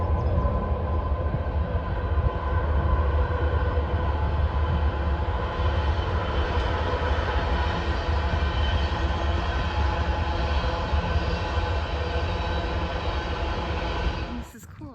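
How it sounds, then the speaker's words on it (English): A long, loud rumbling roar of a passing train, steady for most of the stretch, then cutting off abruptly near the end. "I hear a train coming."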